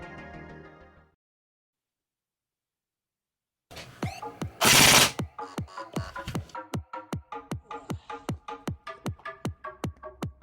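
A Chinese airsoft gun fires a rapid run of sharp, evenly spaced clicking shots, preceded by a brief burst of noise and a short silence, close and fairly loud with no talking.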